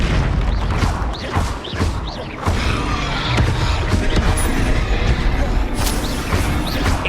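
Repeated explosive blasts from the Confringo spell in Hogwarts Legacy, loud bursts recurring every second or so over dense battle noise, with a voice briefly heard.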